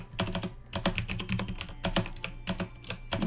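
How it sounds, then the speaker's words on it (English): Rapid bursts of crisp keystrokes from a loud clicky computer keyboard, irregular typing in quick clusters with short gaps, close and dry with no voices. "with my loud clicky-clacky keyboard."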